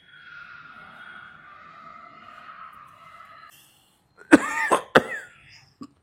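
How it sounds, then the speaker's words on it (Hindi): Several harsh coughs burst out close by after a stretch of quiet, the fits bunched together, with one last short cough trailing at the end. "बहुत खांसी हो रही है"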